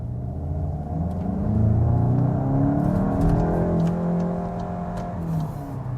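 A Volkswagen Golf 8 GTI in sport mode accelerates hard, its engine rising in a deep, loud rumble that swells and holds, heard from inside the car with no speech.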